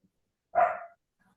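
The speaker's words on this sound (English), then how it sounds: "Your doggy, your puppy, I think he's agreeing with you." A single dog bark, fairly close and clear, cutting into the quiet of an online meeting and fading quickly with no talk over it.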